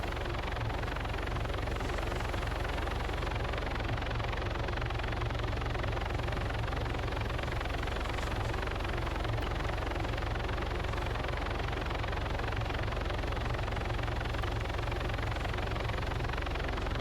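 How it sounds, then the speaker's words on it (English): A helicopter engine drones steadily in a squad-based heist game set around Harcourt, a constant low rotor and turbine rumble that holds unchanged and fairly loud for the whole stretch with no talk over it. "Bring a helicopter with a squad in."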